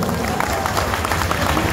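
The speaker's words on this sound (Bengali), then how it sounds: "তোমাদেরকে এবং তোমাদের বাবা মার জন্য একটা জোরে করতালি হবে এখানে" Crowd at an event applauds A-plus students and their parents, giving a dense, even patter of many hands clapping for a short stretch amid general crowd noise.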